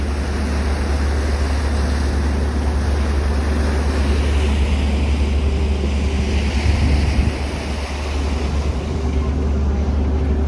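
Halifax Transit ferry Christopher Stannix under way, a steady low engine drone beneath rushing water and wind noise, continuous and close throughout.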